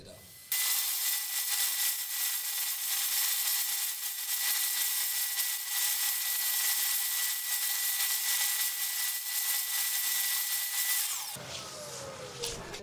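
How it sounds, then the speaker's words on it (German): A dust extractor roars loud and steady while wood is sanded on a lathe with sanding discs, a bright hissing rush that runs for about eleven seconds, then cuts off, leaving a quieter room. "Ich feuere jetzt die Absaugung an und dann mache ich mich an die Schleifarbeiten."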